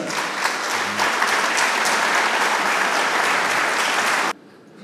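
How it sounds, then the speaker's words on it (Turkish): Sustained applause from a large audience at a Galatasaray club gathering, steady and dense for about four seconds before cutting off abruptly into quiet room tone. "Fatih Hoca'yı destekleyen çok büyük bir alkışı rica ediyorum"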